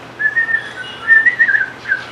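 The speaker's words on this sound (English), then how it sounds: "Should we whistle while we work" People whistle a wavering, tuneful melody while they work on food at a backyard gathering, fairly close and clear, in short phrases with brief pauses and no speech.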